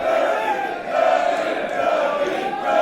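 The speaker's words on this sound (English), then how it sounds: "This crowd united in their support for Martin Kirby." Wrestling crowd at a WCPW match chanting and cheering together in support of a wrestler, a loud sustained roar of many voices with rhythmic swells throughout.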